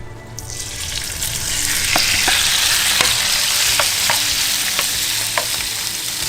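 Lobster pieces sizzling and frying in a pan of mixed canola and sesame oil, a steady loud hiss with scattered sharp pops and crackles throughout.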